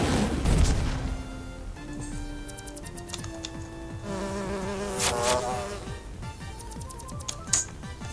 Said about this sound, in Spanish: Hemos sido picados por abejas